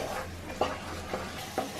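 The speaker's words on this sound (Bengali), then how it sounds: "2-3 মিনিটের মতো মিডিয়াম আঁচে কষিয়ে নিতে হবে" Spices sautéing in oil over a medium flame, a soft continuous sizzle broken by three short spatula scrapes, close and quiet.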